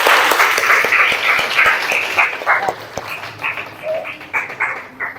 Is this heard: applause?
yes